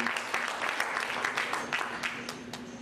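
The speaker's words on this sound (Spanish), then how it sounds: "para quien pido fuertes palmas, por favor" Audience applause at the closing session of an education forum in Lima Norte, honoring a teacher; a steady, moderately loud patter of many hands clapping throughout, somewhat distant.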